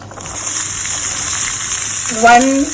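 Finely chopped onion drops into hot oil where mustard seeds are already crackling, for Mumbai-style vada pav. A steady close sizzle runs throughout, with a brief voice-like sound near the end.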